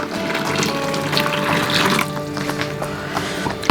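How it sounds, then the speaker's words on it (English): A pint of boiling water poured over a pound of sugar in a bowl, a continuous splashing pour close by that tapers off into scattered drips and small clinks. "pour a pint of boiling water over it."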